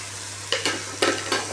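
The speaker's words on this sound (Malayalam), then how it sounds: "എന്നിട്ട് നല്ല പോലെ വഴറ്റുക." Chilli, coriander, turmeric and garam masala powders being sautéed with vegetables for chicken curry, a soft sizzle broken by four quick spatula stirs against the pan, with a low steady hum underneath.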